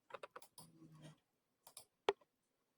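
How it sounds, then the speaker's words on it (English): Typing a number on a computer keyboard during a C++ coding lesson: a quick run of light key clicks, then a gap and a single sharper keystroke like pressing enter, all close and fairly quiet with no voice. "Let me type some value like"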